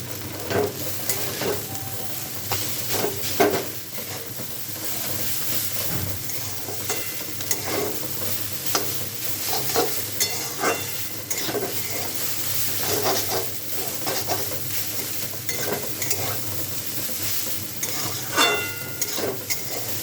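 Boiled chowmein noodles are stir-fried in a hot pan, giving a continuous close sizzle broken by frequent tossing and scraping strokes of a spatula, loud and busy throughout with no one talking.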